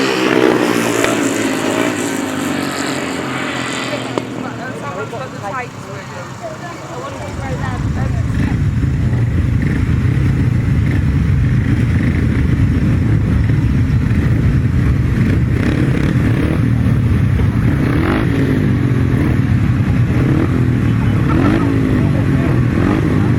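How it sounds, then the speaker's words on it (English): Upright solo grasstrack racing motorcycles rev loudly on the start line, then roar away together into a sustained, close, harsh engine blare, with a commentator talking over the noise. "Revving up on the line now for the final lead of the upright solos."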